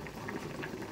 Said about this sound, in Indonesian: Sudah mendidih